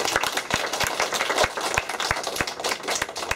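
A small group applauds the kitchen staff at a Christmas-season gathering, with distinct individual claps audible in a moderate, uneven patter that carries steadily to the end.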